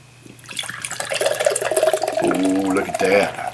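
Goose Island Big Juicy Beer Hug imperial IPA poured into a glass, a rising liquid gush with fizzing and gurgling that builds over a few seconds, close up, with a voice speaking over it.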